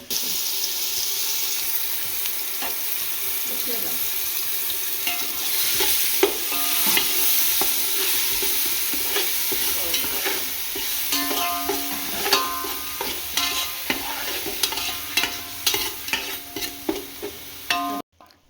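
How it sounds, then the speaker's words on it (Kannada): Chopped onions frying in a pan for paneer pulao, a continuous close sizzle broken by repeated scrapes and clinks of a spatula stirring, with a few sharp metallic taps near the end. "ಈರುಳ್ಳಿ ಎಲ್ಲ ನೀಟಾಗಿ ಗೋಲ್ಡನ್ ಬ್ರೌನ್ ಬರೋವರೆಗೂ ನೀಟಾಗಿ ಹುರ್ಕೊಬೇಕು"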